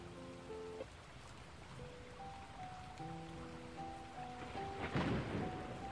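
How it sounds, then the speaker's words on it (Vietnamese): Heavy rain hisses steadily with rumbles of thunder, one louder crack near the end, all beneath a soft, sustained melodic music bed. "Ngoài kia cơn mưa nặng hạt vẫn cứ rì rào."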